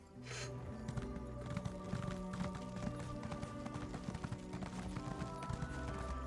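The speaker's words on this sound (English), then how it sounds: "Vampire horse." A vampire horse in the Elder Scrolls Online video game trots with steady, rhythmic hoof clip-clops, quiet and distant, over a soft game music bed with no speech.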